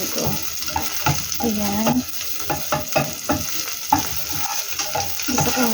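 Mung beans sautéing in a pan, with steady sizzling and stirring scrapes running throughout, while a voice speaks briefly near the start.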